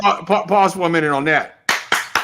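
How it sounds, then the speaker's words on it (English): A few sharp handclaps ring out close by at the end, right after someone speaks, as the hosts of a casual break-room talk show clap it up for a guest. "Yeah, we gotta clap it up."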